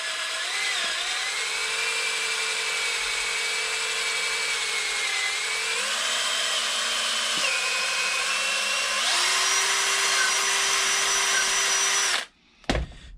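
A power drill bores a hole through a homemade GoPro wing mount in a long, loud, steady whine whose pitch steps up and down as the load changes, ending in a brief clatter.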